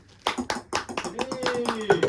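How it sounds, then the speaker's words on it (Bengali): Sharp hand claps ring out in a quick, fairly regular run during a boys' ball competition game, mixed with nearby voices calling and talking over them. "ও হাততালি"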